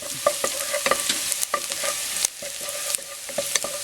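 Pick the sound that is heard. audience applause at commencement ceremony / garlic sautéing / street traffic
garlic sautéing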